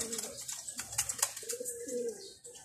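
Racing pigeons coo at a loft, a steady run of low murmuring calls close by, layered with a few sharper bird notes and rustling, with no voices.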